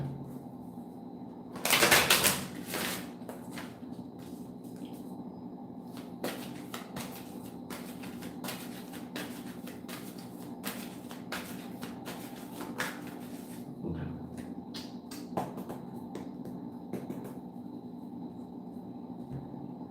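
Quiet riffle of cards being shuffled in short bursts, one louder flutter near the start, over a faint steady hum.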